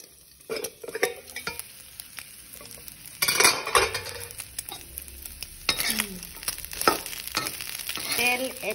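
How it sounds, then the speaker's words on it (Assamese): Pork frying on a low flame with a few dried chillies in a pan without added oil, soft sizzling broken by scraping stirs and clinks of a utensil against the pan, close by. "এনেকৈ লো ফ্লেমত এতিয়া মই 20 মিনিটছ মান এটো ভাজি লম"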